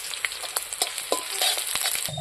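Chopped onion, green chili and garlic frying in hot oil as white cumin seeds go in, a bright continuous sizzle with a few quick stirring scrapes, close and fairly loud, no voices.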